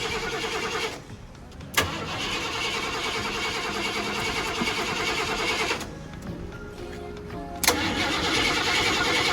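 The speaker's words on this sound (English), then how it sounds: "Had to use a screwdriver, touch these two to crank it, so hopefully we get that going." A 1990 Ford F-150 XLT Lariat engine cranks and fires, started by bridging two terminals with a screwdriver, with loud, close turnover bursts broken by brief pauses, then a sustained running roar.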